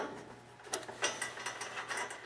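A wrench turns the lock-nut shear pin bolt on a snowblower auger, giving a quick series of faint, close metallic ratchet clicks in an irregular rhythm, with no talking.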